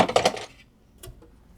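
Small metal screws taken from the back panel of a TRS-80 Model 4P computer drop and clatter onto a hard surface, a quick bright jangle of several hits, followed by a couple of lighter clicks as they settle.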